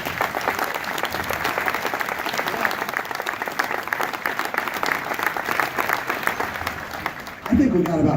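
Sustained applause from a conference audience, dense and steady for about seven seconds before thinning out at the end.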